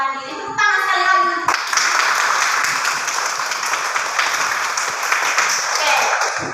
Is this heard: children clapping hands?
yes